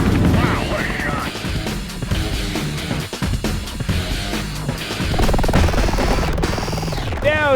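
Helicopters flying low over brush to flush out animals, a loud continuous rotor drone mixed with bursts and clatter, with voices talking over it.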